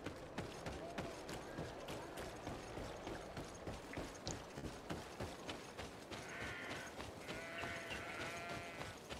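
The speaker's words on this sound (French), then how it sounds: "Oui, les petits moutons." Sheep bleat in the video game GreedFall, with a couple of short wavering calls near the end over a quiet, steady rhythmic clacking of footsteps and mechanical game sounds.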